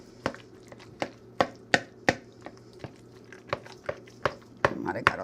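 A spoon works through potato salad made with boiled eggs, Idaho or white potatoes and mayonnaise in a bowl, giving a steady series of sharp clinks and scrapes about once per second, fairly close.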